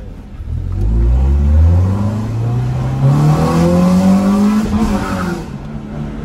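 Honda car engine revving hard nearby, its pitch climbing steadily through a long rising sweep before easing back, loud and alone with no talk.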